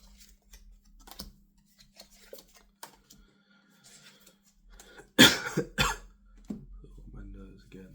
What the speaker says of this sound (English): Sorry, keep seeing me blow my nose.